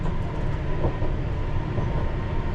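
A 1973 London Underground Piccadilly line train heading toward Cockfosters rumbles along the track with a loud, low, continuous roar heard from inside the cab.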